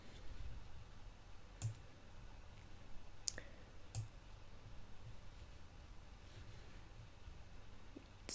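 A computer mouse clicks a few times on a Logitech webcam controller, crisp isolated clicks spaced apart over a faint quiet background.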